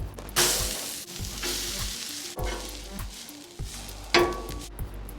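Onions and jalapenos sizzle steadily on a hot griddle for a cheesesteak, with a spatula scraping and stirring now and then, close and fairly loud.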